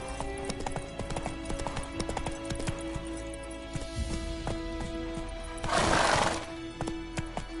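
Roach the horse gallops in The Witcher 3, a quick, steady clatter of hooves with a constant hum beneath and a brief burst of rushing noise near the end.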